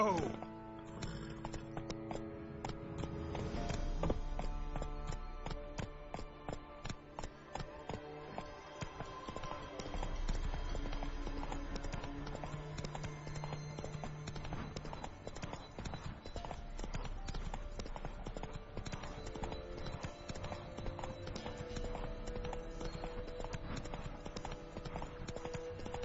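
The horse Roach trots in The Witcher 3 with steady clip-clopping hooves under game music, and a voice speaks briefly over them.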